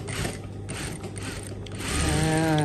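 A sewing machine stitches elastic into the waistband of a half-instant sarong, a steady mechanical whirring chatter that grows slightly louder and denser toward the end, with no talking.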